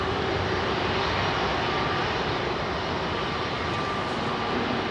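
A Sri Lankan Airlines Airbus A330 jet at London Heathrow gives off a steady, loud engine roar with a broad rushing whine that holds evenly throughout.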